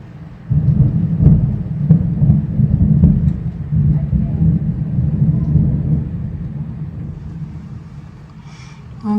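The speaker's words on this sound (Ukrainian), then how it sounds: "Прям тільки що видно, зараз буде грім." Low thunder rumbling through an evening thunderstorm with rain, a long rolling boom that rises quickly, lingers for several seconds and fades out slowly.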